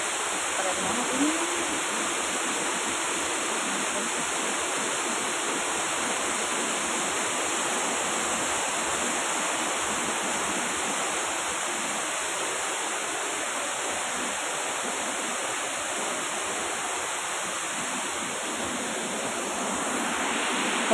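A river flowing beside a campground near Bogor, a steady broadband rush of water that stays loud and even throughout, heard up close with no clear talking.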